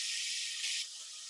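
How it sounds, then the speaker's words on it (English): Hot vegetable oil sizzles steadily in a pan, a close, continuous bright hiss that swells briefly midway before settling back, with no voices. "If you don't hear that sizzle, it was not hot enough."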